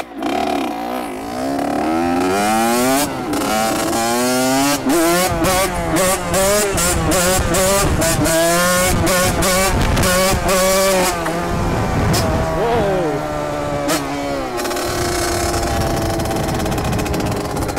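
An 80cc CR motorcycle ridden gently during break-in, its engine loud and close, revving up and down in repeated rising and falling sweeps with a brief lull near the end.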